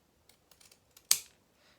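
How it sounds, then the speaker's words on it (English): Pinking shears snip through fabric with one sharp, crisp cut after a few faint clicks and handling taps, close but quiet overall. "Nice satisfying snip sound."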